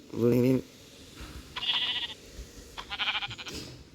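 Sheep in the Minecraft video game bleat in several short wavering cries, the first loud and the rest a bit fainter, while a voice talks underneath.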